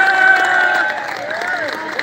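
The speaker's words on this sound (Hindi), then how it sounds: "ये ताली बजाओ, बहुत दूर से" Audience at an outdoor poetry recital on a middle school ground in Harda, applauding and cheering in a brief burst, loud and close at first, then softening slightly.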